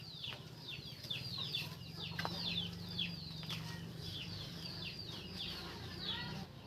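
Native chickens cluck and squawk in quick, repeated calls, some birds closer than others, with occasional wing flaps over a low, quiet background hum.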